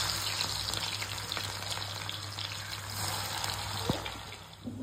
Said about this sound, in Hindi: आमर तेल तातीगला आम प्याज पकेबा।